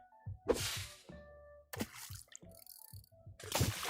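Water ambience plays while fishing in the Dreams video game: soft trickling and gurgling bursts come and go in short swells, separated by quieter gaps with faint tonal game sounds.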